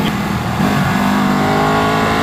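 A 2018 Ducati 959 motorcycle engine drones steadily and loud throughout, a sustained mid-pitched engine note with a slight rise in pitch, heard alone without voices.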